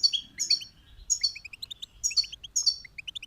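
Small goldfinch chick chirping in quick, high-pitched bursts, repeating several times close by in an otherwise quiet setting.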